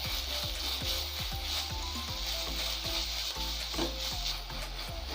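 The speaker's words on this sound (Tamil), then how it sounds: "இஞ்சி பூண்டு பேஸ்ட்டோட பச்சை வாசனை போகிற வரைக்கும் நல்லா ஃப்ரை பண்ணிக்கோங்க." Crushed ginger garlic paste fries in a pan for mushroom masala, a dense continuous sizzle up close with repeated soft scraping strokes of a spatula in a regular rhythm.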